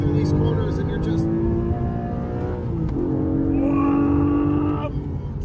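A Porsche sports car is driven hard through corners, its engine note rising and falling between shifts with a strong, close in-cabin growl and revving tones climbing toward the end; a voice talks over it.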